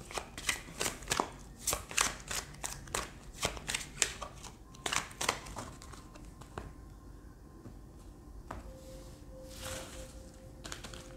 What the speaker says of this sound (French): on va tirer d'autres cartes des arcanes, donc mineurs